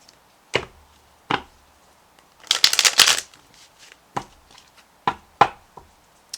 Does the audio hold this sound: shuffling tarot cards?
yes